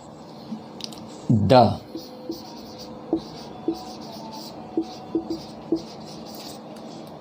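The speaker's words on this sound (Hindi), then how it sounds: "पहले डिफिनेशन लिख लेते हैं।" A pen or marker scratches and taps while a definition is written out during a physics lesson, with short irregular strokes and clicks and a brief louder scrape near the start, in a quiet room.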